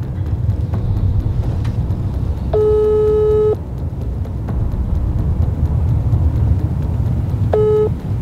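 Two beeping phone-call-rejected tones, a one-second tone and a shorter one several seconds later, sound over a steady low rumble of traffic or engine noise.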